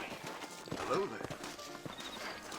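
Horse hooves clip-clop with a brief neigh in the Western video game Red Dead Redemption, a short close burst of steps heard under game dialogue and ambient music.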